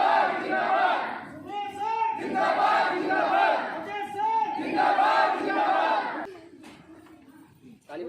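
A crowd greets an arriving guest with loud collective shouts and cheers in rhythmic surges. The cheering fades after about six seconds, leaving quieter noise.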